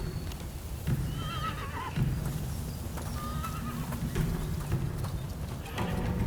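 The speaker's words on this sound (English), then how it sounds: "Here's where they practice horseback archery." Horses at a horseback archery practice ground in the game Rise of the Ronin whinny several times over a steady wash of hoof clatter and ambient noise.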